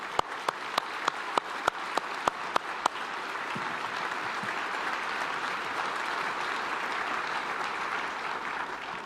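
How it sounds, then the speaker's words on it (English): An audience at a military change of command ceremony applauds, opening with a series of sharp, separate claps that merge into steady, sustained applause from a large crowd. "So a round of applause for all those who worked with us."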